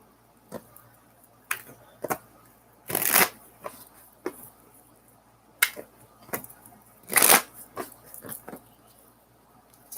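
Tarot cards being shuffled by hand in several quick riffling bursts separated by pauses, fairly close and clear, with soft clicks and handling noises between them and no talking.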